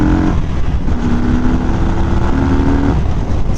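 A 2018 Harley-Davidson Fat Bob 114 motorcycle accelerates hard on an open road, its exhaust giving a loud, continuous, rumbling roar that rises and shifts in pitch, with heavy wind noise throughout.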